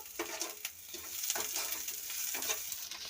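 Onion frying with ginger-garlic paste in a pan gives a soft, continuous sizzle, broken by repeated scraping strokes of a spoon as the mixture is stirred.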